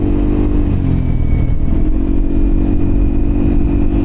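A Yamaha Aerox 155 scooter engine drones steadily at close range on a night ride up Marilaque Highway, its pitch rising slightly as it accelerates, with constant road and wind rumble.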